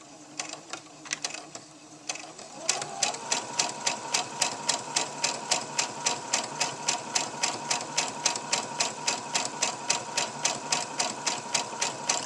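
A sewing machine straight-stitches across two pieces of a store-bought dog bandana, starting after a few quiet clicks and handling sounds, then a fast, steady rhythmic chatter of the needle, close and clear.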